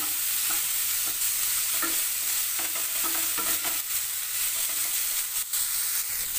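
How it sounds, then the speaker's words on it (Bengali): Boiled figs frying with spice masala for a vegetarian Bengali dish, stirred in the pan: a loud, steady sizzle fills the clip while a spoon repeatedly scrapes and knocks against the pan. "ডুমুরের সঙ্গে ভালো করে মশলাটা ভালো করে কষে নেব 1 মিনিট।"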